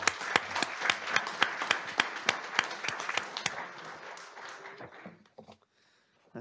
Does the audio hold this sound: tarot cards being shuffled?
no